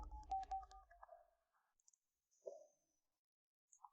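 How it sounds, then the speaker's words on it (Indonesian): A telephone being dialed: a quick run of short clicks and button tones up close, followed by sparse, fainter beeps and clicks amid near silence, with no talking. "Cepat telepon Profesor Zhao"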